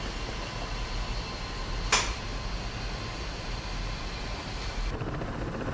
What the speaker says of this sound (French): Donc là, les hélicoptères, ils atterrissent à la base.